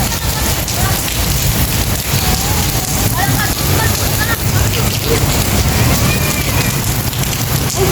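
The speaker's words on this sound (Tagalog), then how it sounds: "Patak ulit ng ulan, oh." Heavy rain pours down steadily, a loud dense hiss with drops drumming on surfaces throughout, and faint voices in the background.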